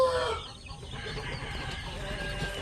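Sampin and Basilan native chickens in a backyard pen cluck and call steadily throughout, with a brief rooster-like cry near the start over continuous busy farmyard noise.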